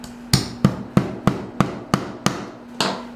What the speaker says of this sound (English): you do want to make sure that you are hammering not on the metal